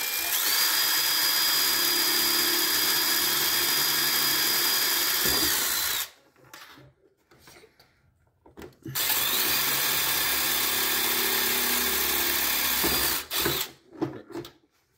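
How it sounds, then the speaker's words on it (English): A power drill with a drill bit bores holes during a Tbone exo cage install on a Kaiju, whining steadily for about six seconds, pausing, then running again for a second long burst, close and loud. "so I just have to use a drill bit."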